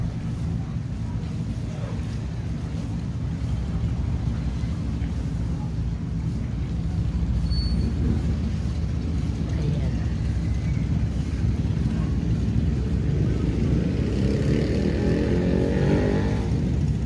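A motorized bangka passenger boat engine drones steadily throughout off Bolinao, Philippines, with wind and water noise around it and a slight rise in intensity near the end.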